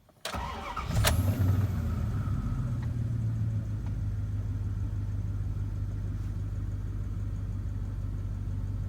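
A 1998 Dodge Ram 1500, just repaired for a cylinder misfire, cranks and fires up with a brief starter whirr, then settles into a steady, even idle rumble close by, with no talking.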